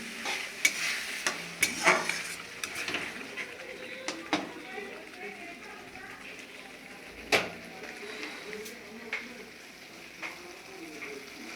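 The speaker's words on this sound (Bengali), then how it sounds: "জল দিয়ে দিয়ে ভালো করে এটাকে তেল ছাড়া অবধি কষিয়ে নেব।" Spiced masala cooks down with splashes of water in a pan for a stingray fish curry, a soft sizzle under intermittent clinks and scrapes of stirring.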